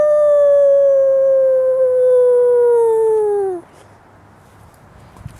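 A person imitates a wolf howling at the moon outdoors at night, giving one long, loud, steady howl that bends down in pitch and cuts off, then quiet ambience.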